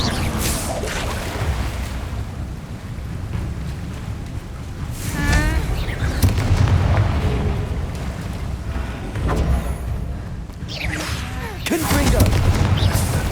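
Heavy Bombarda spell explosions in Hogwarts Legacy on PS5, several booming blasts with whooshes and crashing debris, loud and close, over a busy game background.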